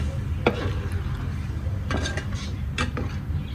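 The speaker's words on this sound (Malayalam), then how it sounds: "ഈ നാളികേരം അരച്ചത് ഞാൻ ഒഴിച്ചു കൊടുക്കുകയാണ്. നല്ലോണം ഇളക്കി യോജിപ്പിക്കാം." Spoon stirring ground coconut paste into Kerala koottukari in a pot, a few distinct metallic scrapes and clinks over a low simmering background, close and moderately loud, no talking.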